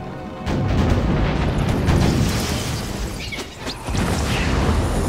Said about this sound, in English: Matthew, did you destroy that ship yet?